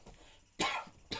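A person coughs twice, one harsh burst in the middle and a shorter one at the end, with faint throat sounds before, close to the microphone.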